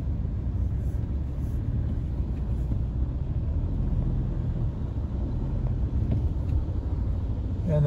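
Steady low rumble of vehicles crawling through floodwater on a street in Subic, Zambales, a continuous engine drone without breaks and no clear voices over it.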